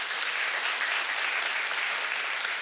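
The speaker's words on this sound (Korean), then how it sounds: "모든 분들께 박수 한 번만 부탁드립니다" Steady, dense applause from a literary festival audience at a Korean literature week event, loud and continuous throughout with no break.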